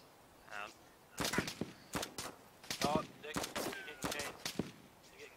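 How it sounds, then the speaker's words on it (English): Gunfire crackles in DayZ Standalone, a run of sharp distant shots in irregular bursts and single cracks, with a voice briefly speaking near the start. "I can hear gunfire."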